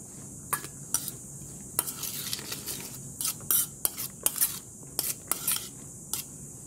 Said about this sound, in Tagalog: Siyempre haluin natin ng maigi para kumalat ang lasa.